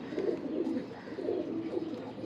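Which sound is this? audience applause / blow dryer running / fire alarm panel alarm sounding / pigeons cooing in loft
pigeons cooing in loft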